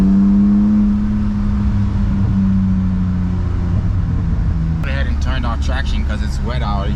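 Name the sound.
BMW E36 car engine driving on wet road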